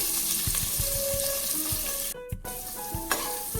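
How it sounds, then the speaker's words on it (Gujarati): Chopped onion and curry leaves fry in hot oil with asafoetida, giving a loud, constant close sizzle, punctuated by repeated soft spatula taps and stirring scrapes against the pan. "ત્રણથી ચાર મીઠા લીમડાના પાન ઉમેરી દઈએ અને એક સમારેલી ડુંગળી ઉમેરી દઈએ"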